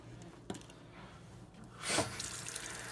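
Running water from a sink tap, a low steady flow that swells louder near the end, with a sharp clink early on.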